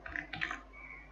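Typing on a computer keyboard, a quick, faint burst of a few close keystrokes followed by near silence.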